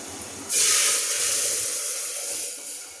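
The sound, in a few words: tempering (phodni) poured into dal, sizzling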